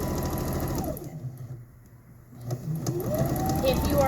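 A sewing machine stitches fabric scraps for scrunchies in a whirring high-pitched run that slows and stops, then starts up again, while a person talks over it.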